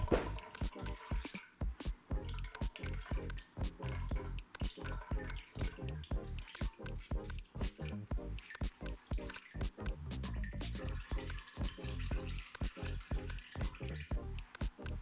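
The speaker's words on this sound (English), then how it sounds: "Gently squeeze the bag to extract the almond milk" Almond milk dripping and squishing out of a squeezed nut milk bag: a dense, rapid patter of close wet drips and splats runs continuously with small pauses between squeezes, and no one speaks.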